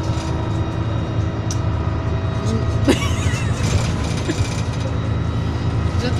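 Inside a moving city bus on a cold day, the engine rumbles steadily with rattles and mechanical clunks, a brief sharp knock near the middle, and a voice speaking faintly.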